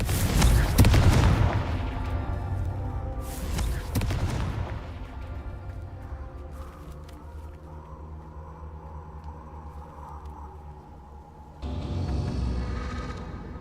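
Confringo fire-spell blasts in Hogwarts Legacy go off in heavy booming bursts, two big hits early followed by a fading rumble and another burst near the end, with a voice heard between them.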